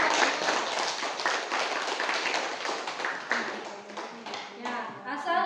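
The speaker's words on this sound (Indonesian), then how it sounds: "beri tepuk tangan untuk kelompok." A classroom audience claps for a student group presenting on petroleum and natural gas, a dense patter of many hands lasting several seconds, fairly close and moderately loud.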